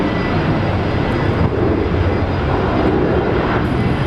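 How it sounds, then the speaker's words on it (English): A steady, loud roar fills the air as an Alliance Airlines jet airliner takes off from Brisbane International Airport, its engines sounding continuous broadband thunder with no voices. "Nice takeoff. Alliance Airlines."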